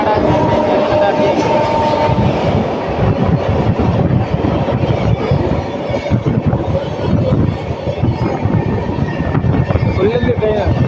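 A Jan Shatabdi express train rolls past near the Penna River with a loud, continuous rumble and rhythmic clatter of wheels on track. A voice speaks over it.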